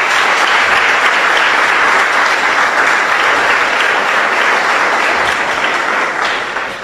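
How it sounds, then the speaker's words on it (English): Loud, continuous applause from a crowd at a Ghanaian high school ranking announcement, full and steady for nearly seven seconds before tapering slightly at the end. "Please give them a round of applause."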